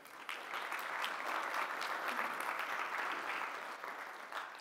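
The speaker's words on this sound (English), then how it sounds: "Give them a round of applause." An audience gives a steady round of applause at a tech conference welcome, dense clapping running evenly from start to finish with no voices over it.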